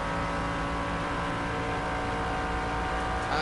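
Onboard a Nissan GT1 race car with a V8 engine, a loud, steady engine drone fills the whole stretch, rasping and throaty, with no break or gear change and no voices.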